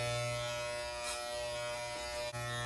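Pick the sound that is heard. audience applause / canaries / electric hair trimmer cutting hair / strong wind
electric hair trimmer cutting hair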